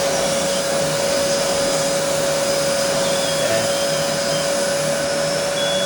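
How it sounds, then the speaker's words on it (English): Aspiron 1200W canister vacuum cleaner running on full suction over carpet, a loud, steady motor roar with a constant high whine throughout, no talk. "I got it up on full suction. That is sucking to the carpet really hard."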